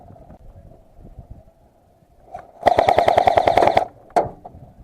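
Airsoft gunfire during a team deathmatch game: a dense, rapid burst of automatic shots lasting about a second, followed by a single sharp shot, loud and near, after quieter background movement.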